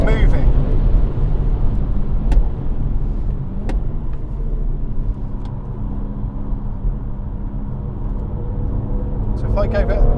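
A BMW M140i accelerating hard on the Goodwood circuit, heard from inside the cabin as a loud, steady low engine drone with a few faint clicks and a brief rise at the end.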